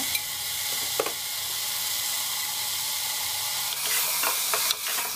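Pav bhaji ingredients sauté in oil in a pan, making a continuous loud sizzle and hiss with a few brief clicks of a utensil stirring, with no voices.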